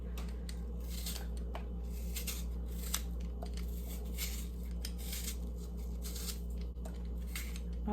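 Apples being peeled with a knife for an apple crisp, giving repeated soft scraping strokes in a steady rhythm over a constant low kitchen hum.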